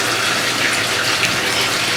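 Hot water gushes from a tap into a mop bucket, a loud, steady, broadband rush that fills the whole moment without pauses.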